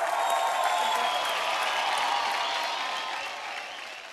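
Spectators at a girls versus boys cricket match applaud and cheer for the players, a sustained wash of clapping and crowd noise that slowly tapers off.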